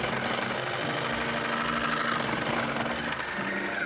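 KitchenAid food processor motor runs steadily and close, a dense buzzing whir with a faint rhythmic vibration, continuous throughout.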